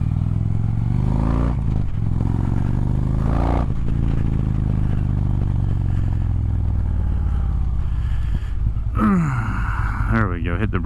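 Motorcycle riding noise with engine drone and wind, dropping in pitch as the rider brakes and slows, with clattering and scraping near the end; no talk over it.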